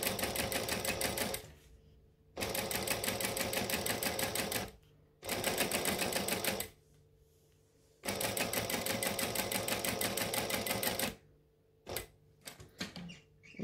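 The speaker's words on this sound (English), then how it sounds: "if you go too fast when you're stitching on vinyl on this type of machine, you might not get very even stitches." A sewing machine top-stitches vinyl for a shoulder bag, running in three long even bursts separated by brief pauses, then a few short stop-start stitches at the end.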